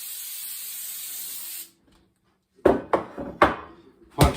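Coconut oil cooking spray hisses steadily from an aerosol can as bread pans are greased for Amish white bread, a continuous spray lasting over a second before stopping, followed by a few close thumps and knocks of pans.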